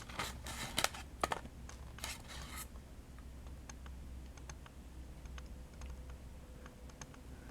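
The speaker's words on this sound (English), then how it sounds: "you push the barrel in and click to fire" Toy tank with a push-in barrel that clicks to fire: a quick run of close, sharp plastic clicks and rattles, followed by quieter sparse ticks against a low background hiss.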